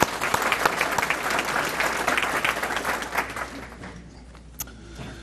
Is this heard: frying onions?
no